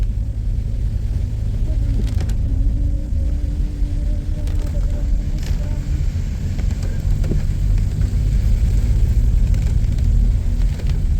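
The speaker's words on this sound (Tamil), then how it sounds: "நல்ல பெரிய மழையாகவே பெய்யுது" Heavy rain falls during a midnight drive through hill roads from Theni to Thekkady, a steady loud broadband wash over continuous low car rumble, with no break across the whole stretch.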